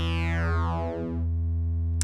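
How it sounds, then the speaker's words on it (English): Kinked sine wave from an Endorphin.es wavefolder synth module, a steady buzzy tone whose upper harmonics sweep down and fade, with a short click at the end. "So we start with this kind of kinked sine wave."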